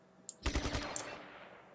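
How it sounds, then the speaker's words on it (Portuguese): Video game gunfire from target shooting in Just Cause 3, a quick burst of several rapid shots with a short ringing tail, preceded by a couple of small clicks. "iniciar aqui o tiro ao alvo aqui no jogo uh, Just Cause 3."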